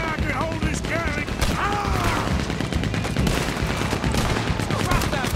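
Gunfire in Red Dead Redemption 2 during a bank robbery shootout, with a Gatling gun among the weapons, as dense rapid shots and booms rattle continuously for several seconds while shouted voices and game music sit underneath.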